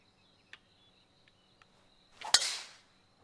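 Golf club striking a ball in a Jack Nicklaus golf game on the St Mellion course: a few faint ticks, then one sharp, crisp impact followed by a short airy whoosh, with no talking.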